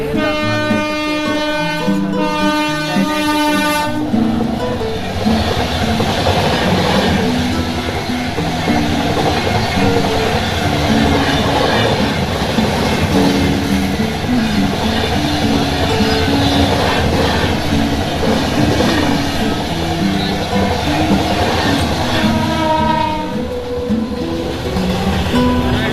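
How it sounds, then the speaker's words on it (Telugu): A train rolls past at close range, its steady rumble and wheel clatter running loud and continuous throughout, with a horn-like tonal blast at the very start and again faintly near the end. "అయితే మేము వేరే ఊరు వెళ్ళడానికి ట్రైన్ వస్తుంది."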